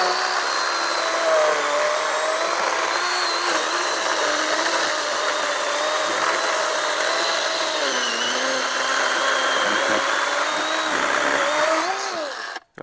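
Makita XCU11SM1 18V brushless 14-inch battery chainsaw cutting through a 5-inch round hardwood log, a steady loud high-pitched whine with a wavering pitch that dips under load, running continuously before cutting off at the end.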